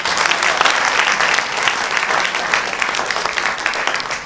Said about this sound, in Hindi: एक बार प्यारे गुरु जी के लिए जोरदार तालियां